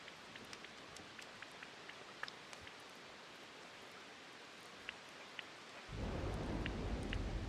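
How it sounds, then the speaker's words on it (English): Steady rain with occasional thunder crackles in the Disney Dreamlight Valley video game, a continuous soft patter that grows noticeably louder and heavier near the end, with no talking. "I like the rain. It's pleasant."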